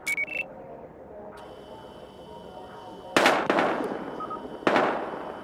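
Gunfire in Battlefield Hardline, with two sharp, loud shots cracking out a second or so apart over a hissing ambient background.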